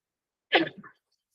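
A single short, sharp sneeze bursts out close by during a town budget meeting, brief and explosive, then silence.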